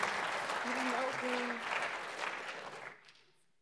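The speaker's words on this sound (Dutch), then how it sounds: "Mag ik een groot applaus voor deze leerlingen van het Arend Theems College?" Audience applause for school students at a university symposium on economics, a loud sustained clapping that fades out toward the end, with a brief voice over it.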